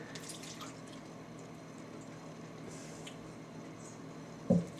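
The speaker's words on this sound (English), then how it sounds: "Let's give it a little rinse." Water runs steadily and softly while a wine glass is rinsed, with a faint trickle and a brief clink of glass near the end.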